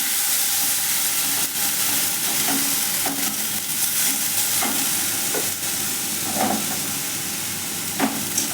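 Bottle gourd peel fries with black cumin seeds and sun-dried lentil bori in a pan, giving a loud, continuous sizzle with occasional scrapes and clinks as it is stirred, and no talking.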